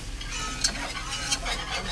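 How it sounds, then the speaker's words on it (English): A roux of margarine, bacon grease and self-rising flour is stirred in a pan, giving a soft continuous scraping with a faint sizzle and a couple of brief brighter clinks, close and steady, with no talk. "Just kind of make a little roux with it."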